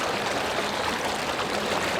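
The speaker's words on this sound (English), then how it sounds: "So we're on a small creek here up in Montana." A small creek in Montana flows with a steady, close, broadband rushing and gurgling of water, continuous and even throughout.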